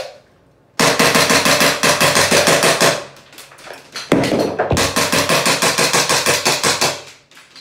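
EF G34 gen 5 MOS CO2 airsoft pistol on a fresh CO2 cartridge fires a rapid string of sharp close cracks, pauses briefly for a reload with a clack, then fires another fast string of shots.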